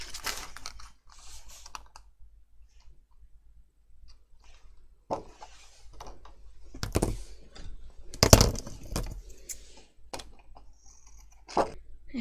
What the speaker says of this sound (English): I'm just going to cut around that.